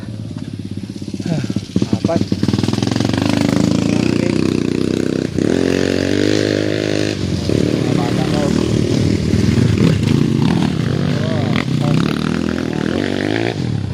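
Motorcycle engines rev and labor nearby with splashing, scraping clatter, while people talk loudly over the noise.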